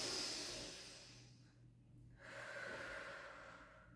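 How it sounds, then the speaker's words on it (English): A single slow, audible inhale during a gentle pilates exercise, close and soft, breaking off for a moment and then continuing into a longer drawn breath. "And then take a breath in."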